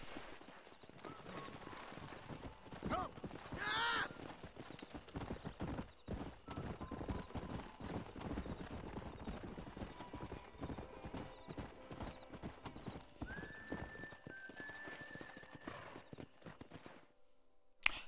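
Horse hooves clip-clop steadily in Red Dead Redemption as the rider sets off, a rhythmic trotting over game ambience with a whinny and a few distant gunshots mixed in.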